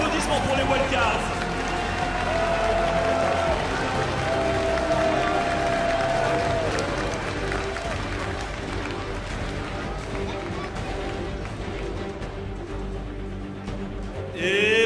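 A large arena crowd at the Worlds 2015 opening ceremony applauds and cheers the Wildcard teams, a continuous dense roar of clapping and voices held at a steady level throughout, with amplified tones ringing over it.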